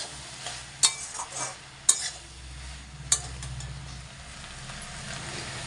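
Spices stirred into okra and potatoes frying in a pan: a soft continuous sizzle with a few sharp spoon clicks and scrapes against the pan near the start, then steady frying alone.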